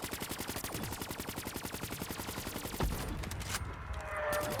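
Sustained rapid automatic gunfire from the KN-44 assault rifle in Black Ops 3 Zombies, a dense, evenly spaced burst of shots that runs for nearly three seconds, then stops with a heavier impact and some game noise trailing after.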